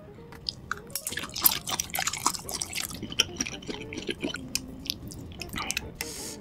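Close-miked mukbang eating of noodles and sausages, with wet slurping, smacking chews and crisp bites in quick irregular bursts, intimate and moderately loud with no talking.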